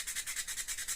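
A resin crystal cluster, cast in a poor-quality mould, is being hand-sanded with quick, steady back-and-forth strokes that give a regular, close rasping rhythm.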